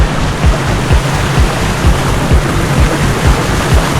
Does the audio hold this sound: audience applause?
no